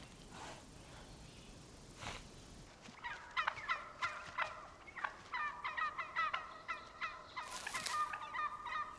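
Wild turkeys gobble in the Canadian autumn wilderness near sunset, a run of rapid, rattling calls overlapping from several birds, starting after a quiet stretch and continuing loud and close through the rest of the clip.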